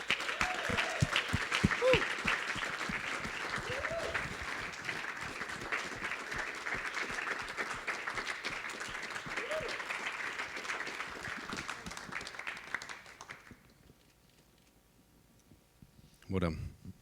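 An awards-night crowd at the Christian Youth Work Awards applauds a winner from the Faith Trust with sustained, dense clapping, loud and steady for about thirteen seconds before fading out, followed by a brief burst of sound at the end.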